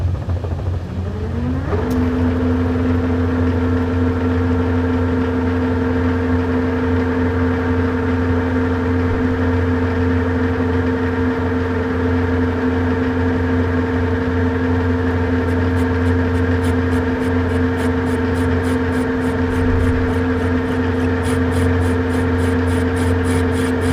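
A Monarch clutch lathe runs steadily as a parting tool cuts into a workpiece for a water faucet tool, a loud continuous machine hum with a sustained tonal whine, close and unbroken, with no talk.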